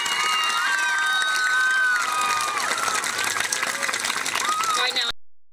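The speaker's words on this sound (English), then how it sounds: "Can we give our PTA moms a round of applause" Cheering and applause from a crowd at a school dedication of a new sports field, with children shouting and whooping voices rising over dense clapping, loud and steady before cutting off abruptly.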